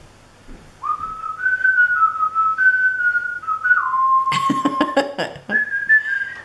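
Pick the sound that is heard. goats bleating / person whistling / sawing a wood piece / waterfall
person whistling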